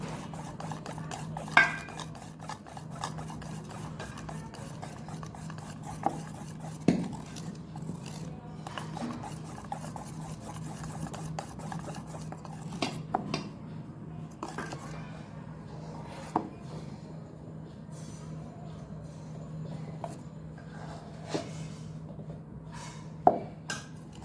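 A spoon stirs lemon-flavored cake batter in a bowl, making quiet, steady scraping with occasional sharper clinks against the side.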